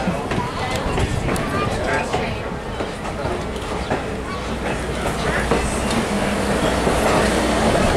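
Loaded passenger cars roll steadily along railroad tracks with a continuous clickety-clack rumble close by, while a voice talks over the noise.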